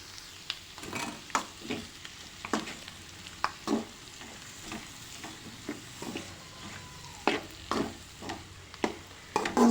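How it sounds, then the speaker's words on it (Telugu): A spoon stirs goat blood curry with coriander in a frying pan, making repeated scraping knocks at an uneven pace over a low, constant sizzle. "కొంచెం కొత్తిమీర వేసేసుకొని మళ్ళీ ఒకసారి కలుపుకొని"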